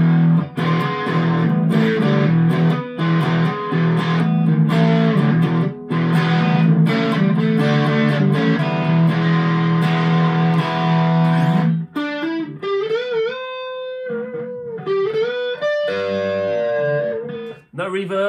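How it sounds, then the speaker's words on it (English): A Vintage V100 Les Paul electric guitar plays through amp overdrive, loud and distorted, with dense chords for about twelve seconds before shifting to sustained, sliding single-note lines. "Let's do it with the actual overdrive."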